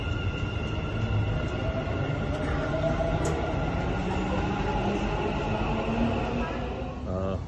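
A Dubai Metro train at OnPassive station, a loud, continuous rumble and whir of the rail cars that stays steady, close by, for several seconds.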